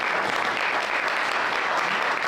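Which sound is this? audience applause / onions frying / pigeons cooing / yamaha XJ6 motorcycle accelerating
audience applause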